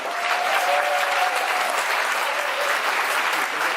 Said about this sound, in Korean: 예민 여러분 제차 뜨거운 박수 부탁드리겠습니다